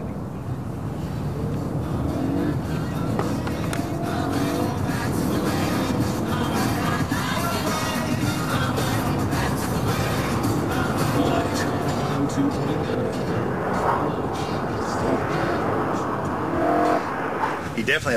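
A BMW M3 on a test-drive course passes with a sustained engine roar, traction control briefly cutting the throttle as it crosses, with people talking over the car noise throughout.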